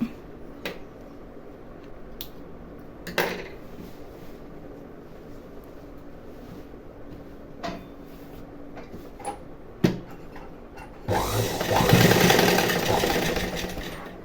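A sewing machine stitches a fall onto a saree. Scattered clicks and handling knocks come first, then the motor whirs in a loud, steady run near the end.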